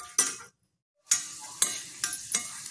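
Urad dal and chillies roast in a pan while being stirred, with several sharp scraping, sizzling bursts separated by a short silent gap, loud and near.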